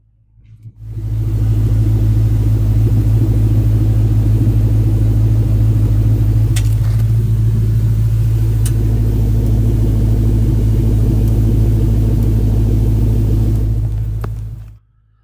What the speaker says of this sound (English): to listen to the exhaust